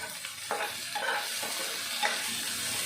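Garlic sizzles in a hot pan with a constant bright hiss, and a few soft stirring scrapes come through over the frying.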